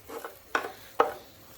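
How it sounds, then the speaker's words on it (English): Leek being stirred in a cooking pot for a Thai-inspired chicken curry: a few soft scraping, rustling strokes with two sharper clinks of utensil against the pot, close and moderately quiet. "I'll add all the leek here and stir it like that"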